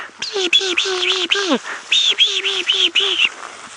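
During a sunset safari drive in the bush, a human voice imitates a bird's alarm call with a quick series of repeated, harsh, rising notes in two bursts, close and clear.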